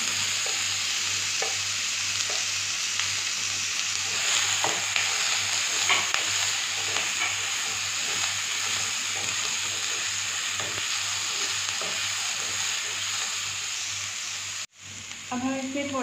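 Chopped capsicum sizzles steadily in a pan as a pizza topping cooks, a continuous close frying hiss with occasional stirring scrapes, briefly cutting out near the end before the sizzle resumes.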